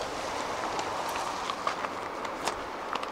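A freight train heading from Port Newark toward Chicago rolls past on a cold, wet, windy day, a steady broad rumble with scattered clanks and wheel knocks, fairly near and unbroken.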